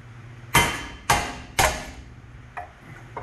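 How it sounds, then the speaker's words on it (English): A hammer striking a screwdriver wedged into a gap to split apart a front-end part on a 1973-1987 GMC/Chevy square body truck: three sharp metallic whacks about half a second apart, then two softer taps. "we've taken a couple whacks at it"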